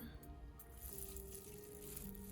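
Water is poured off clover sprouts to rinse away hulls, a faint, continuous trickling wash with no talk.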